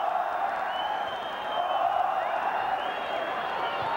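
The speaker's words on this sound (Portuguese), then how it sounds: "E a torcida volta a gritar olé" Large football stadium crowd at a 1999 Brazilian championship match between Palmeiras and Corinthians chanting olé, a steady massed roar of voices from the stands throughout, with no clear commentary over it.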